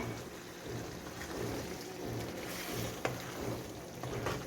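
Water pours into a pot of simmering matar gobhi aloo curry, a continuous rushing, bubbling wash with a brief clink partway through and no speech.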